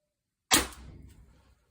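An HD24 air gun running on high-pressure air fires once, a sharp, loud crack followed by a brief fading rattle, with no talk.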